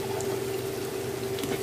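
Chopped onion, black cumin and two dried chillies fry in oil, a continuous soft bubbling sizzle with a faint steady hum beneath.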